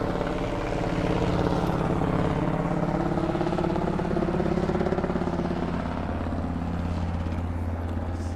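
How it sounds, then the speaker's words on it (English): A helicopter flies overhead at a paramotor championship, a loud steady rotor and engine drone that holds throughout, slowly shifting in pitch as it passes, with no speech. "Got a bit of a helicopter action going on here."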